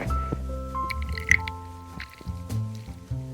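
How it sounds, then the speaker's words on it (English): Water drains from a bowl of instant ramen, with close splashing, dripping and sloshing sounds in short irregular bursts over faint background noise. "you would take the bowl and you would have to drain it a bit"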